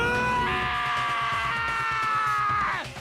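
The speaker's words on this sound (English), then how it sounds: "Now that is a scream." A long, loud scream from a character in the video game Danganronpa: Trigger Happy Havoc, a single sustained high cry that holds steady for nearly three seconds before dropping and fading at the end, with no talk over it.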